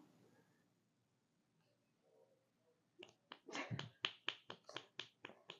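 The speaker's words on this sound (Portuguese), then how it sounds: "tô fazendo minhas palmas silenciosas pra não estourar o áudio" Soft, muted finger claps made deliberately quiet on a podcast, a quick series of about a dozen close, light taps following a few seconds of near silence.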